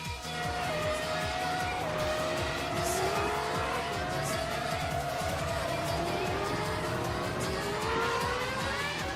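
Race cars roar continuously in the Formula Holo racing game, with layered engine whines rising and falling as several cars pass close together. Tire squeal runs through the steady, loud drone, with no talk over it.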